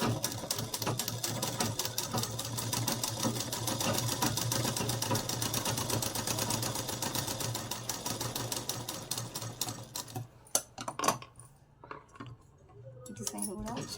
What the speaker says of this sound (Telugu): ఇప్పుడు దీని మీద స్టిచ్చింగ్ వేసుకోవాలి.